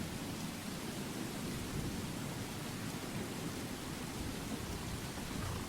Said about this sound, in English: it's raining, right?